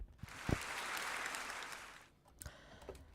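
A faint burst of applause from a debate audience, steady for about two seconds and then tapering off, with a couple of sharp knocks around it.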